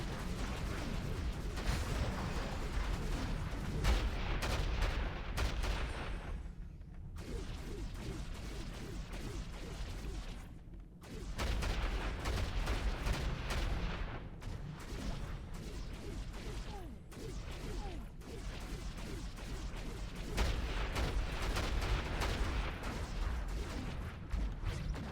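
Fireballs in the action RPG Baldur's Gate: Dark Alliance II burst and whoosh in dense, repeated volleys, a busy stream of impacts and crackling blasts with only a couple of brief lulls.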